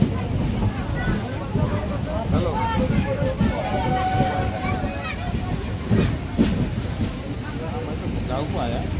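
The Nanded Express pulls out of Udgir railway station, heard from on board as a constant, fairly loud rumble with rhythmic wheel clatter and occasional squeals and hiss running throughout.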